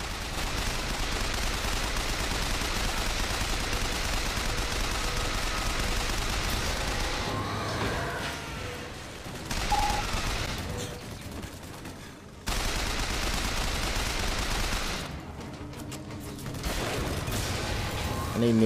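Dense gunfire from the video game Bioshock Infinite rattles in bursts over a game soundtrack, with short lulls between volleys.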